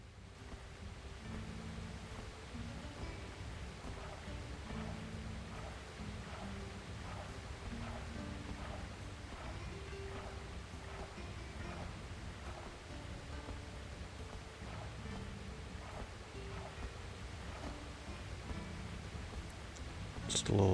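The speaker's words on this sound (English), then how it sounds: "Just the sounds of the waterfall." Steady rushing of a waterfall fills the scene in the video game Dark Cloud, with soft rhythmic splashes of a character wading through water repeating throughout, a continuous moderate bed of water noise with no talking.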